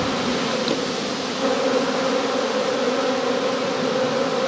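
A swarm of honeybees leaving a hive after swarming fills the air with a dense, steady buzzing drone, close and continuous throughout.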